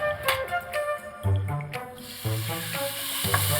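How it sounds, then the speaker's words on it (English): Pork chops sizzle in a hot frying pan, a steady crackling hiss underneath bright tonal music that comes and goes with rhythmic stabs. "That's the sizzle of a hot pan, Rich."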